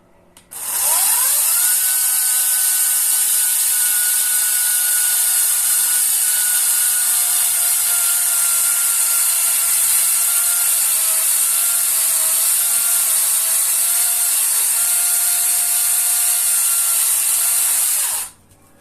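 An Ozito brushless cordless chainsaw with a 356 mm bar cuts through a log, its high, steady motor whine starting abruptly, holding loud and constant for about sixteen seconds, then cutting off.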